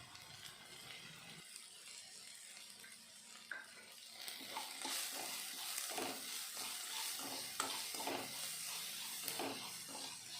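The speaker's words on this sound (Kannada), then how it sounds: "ಈರುಳ್ಳಿ ಸ್ವಲ್ಪ ಫ್ರೈ ಆದ ನಂತರ ರುಚಿಗೆ ತಕ್ಕಷ್ಟು ಉಪ್ಪು ಹಾಕಿ ಫ್ರೈ ಮಾಡ್ಕೊಬೇಕಾಗುತ್ತೆ" Onions fry with salt in a pan for puri upma, the sizzle swelling from quiet to a steady close hiss, broken by scraping and tapping as they are stirred.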